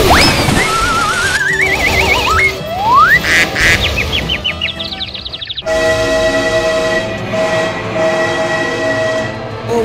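Train horn blaring repeatedly in BeamNG.Drive as a train approaches, loud rising and wavering tones over engine noise, followed by a steady sustained horn blast and rumble.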